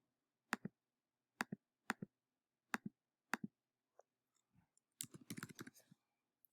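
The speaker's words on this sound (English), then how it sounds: "I'm going to type away some words" Someone types words on a computer keyboard in quiet surroundings: crisp close key clicks in spaced pairs, then a faster cluster of taps near the end.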